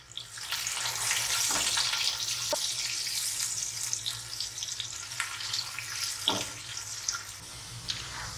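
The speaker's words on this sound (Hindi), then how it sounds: "जीरा हल्का हल्का सा भुनने लग जाए तो आप इसमें प्याज ऐड कर दें।" Onions fry in half a cup of hot oil with cumin seeds, giving a close, steady hiss and crackle that swells early and then eases. Occasional soft clinks are heard and no one speaks.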